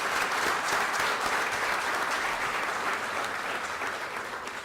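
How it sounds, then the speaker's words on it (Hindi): An audience gives sustained, dense applause at a formal gathering for an honoured guest. Steady clapping from many hands fills the room and fades slightly toward the end, with no clear speech. "एक बार उनके लिए जोरदार तालियां प्लीज।"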